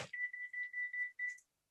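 A phone ringing during an interview, a run of six short electronic rings in quick even succession, clear and close, then stopping into silence.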